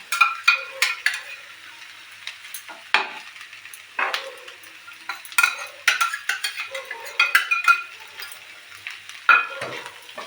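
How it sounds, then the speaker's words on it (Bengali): Bitter gourd and potato bhorta gets mashed in a bowl with repeated scraping, clinking strokes of a utensil, irregular bursts close up against near silence between them. "আমি এটা একটু করতে থাকি, মানে ম্যাশ করতে থাকি"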